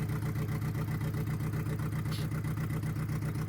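A car engine idles smoothly at about 900 to 1,000 RPM after a fix, a steady, close, low rhythmic pulsing throb with no voices.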